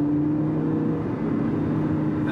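Lamborghini Gallardo LP560-4 engine running with its exhaust valves open, a loud, close, steady droning hum held for a couple of seconds with no talk.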